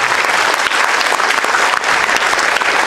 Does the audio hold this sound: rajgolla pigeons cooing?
no